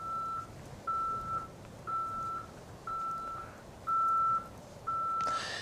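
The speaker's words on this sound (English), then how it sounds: "Sorry about the beeping, everybody." A linked building alarm beeps in a steady pattern, six evenly spaced mid-pitched tones about a second apart over a quiet room background, with a short burst of noise at the end.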